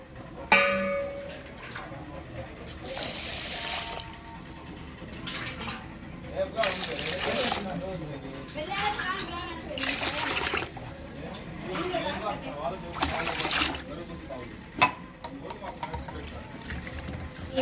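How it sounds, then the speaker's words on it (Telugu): Rice being washed in a pot in a home kitchen, with water poured and swished in several loud splashing bursts separated by quieter gaps, and a voice talking in between. "బియ్యం కూడా పోసుకున్నాను శుభ్రం కడుక్కోవాలి వాటిని"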